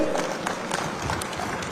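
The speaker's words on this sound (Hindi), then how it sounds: "आदिवासी भाइयों बहनों ताली बजाइए" Crowd of Adivasi men and women at a political rally, applauding as a broad, steady wash of distant clapping with a dense crowd murmur underneath.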